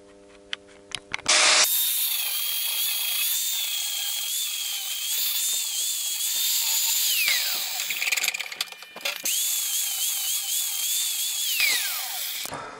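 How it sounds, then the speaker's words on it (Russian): Hand grinder working welded spacers on a homemade pulley puller for a generator pulley, a loud continuous whine that rises and falls in pitch with brief dips and restarts, close by with no talking. "Ну и маленько шлифану."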